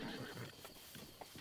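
Horse whinnying in Breath of the Wild, a single high neigh standing out over a steady game soundscape with soft hoof-like thuds, fairly close and moderately loud.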